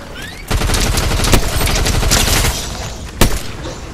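Rapid bursts of gunfire from the video game Fortnite ring out loud and close in a dense rattling volley lasting about two seconds. A sharp single shot follows after a short gap.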